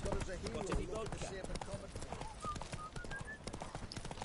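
Horse hooves clip-clop in a quick galloping rhythm in The Witcher 3, steady and moderately loud, with game voices speaking over the hoofbeats and a brief whinny-like tone.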